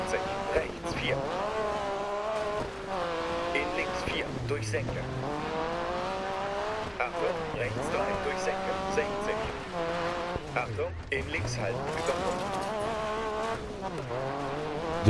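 A Group B rally car in DiRT 4 on a snowy Swedish stage revs hard and continuously, its engine pitch rising and dropping through gear changes with tire skids, while someone talks over it.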